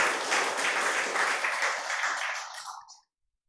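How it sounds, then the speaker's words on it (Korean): Warm applause for the choir from a large church congregation during a service, steady and dense, then tapering off and fading to silence after about three seconds. "수고하신 우리 찬양대에 다시 한번 뜨거운 박수 주겠습니다"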